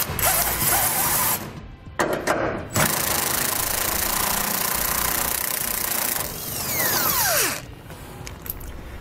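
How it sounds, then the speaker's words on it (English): Power tool driving a 21 mm socket to remove frame bolts on a 2016 GMC Sierra 1500 during a Curt trailer hitch install, a loud sustained whirring drone with a couple of short breaks and a rising pitch sweep near the end. "Next, we're going to remove these two bolts right here. We'll do that with a 21 millimeter socket."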